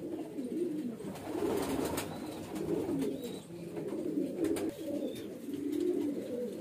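Tonk bajra highflyer pigeons cooing nearby, soft throaty rolling coos repeated in overlapping waves, with faint chirps in the background.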